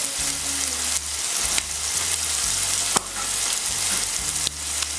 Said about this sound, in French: j'insiste un peu sur le rissolage de l'autre côté